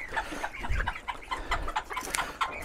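Farmyard hens cluck softly and continuously while pecking at fresh greens, a faint chorus of short, overlapping calls with some background rustling.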